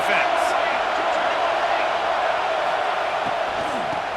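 A stadium crowd roars in EA Sports College Football 26, a steady, loud wall of cheering that holds without a break for a big third down in the red zone.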